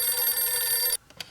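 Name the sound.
phone ringing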